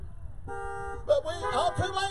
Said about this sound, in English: You done missed your chance to honk.